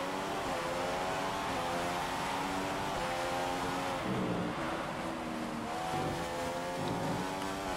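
A Formula One car engine in the F1 2015 racing game, at the Chinese Grand Prix, screams at high revs through repeated upshifts and downshifts, rising and dropping in pitch, loud and continuous with no talk.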